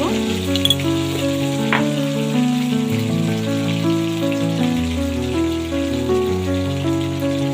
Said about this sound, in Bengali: হলুদ আলুটা লাল লাল করে লাল লাল করে ভাজা হতে থাক